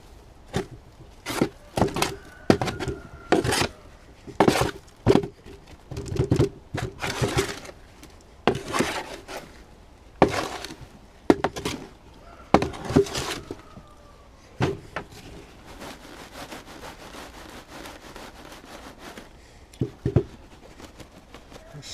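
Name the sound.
mixing potting compost with perlite by hand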